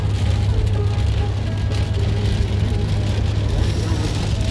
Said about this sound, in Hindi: बारिश भी बहुत ज़्यादा हो रही है